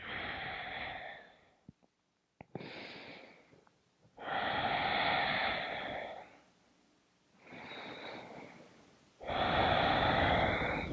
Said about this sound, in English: Let's take a few rounds of breath here.